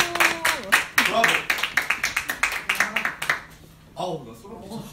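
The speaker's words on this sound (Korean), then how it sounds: "박수" Brisk, rhythmic clapping from a group at a lecture on the Book of Acts, running steadily for about three seconds under excited voices before stopping, after which a voice continues speaking.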